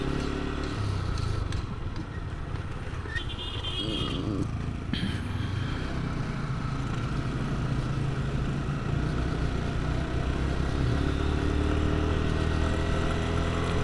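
Motorcycles run along a hill road near Marissa in Baghaichari, Rangamati, a steady engine drone with rattling clatter and a faint rise in revving, fairly close and continuous with no talk.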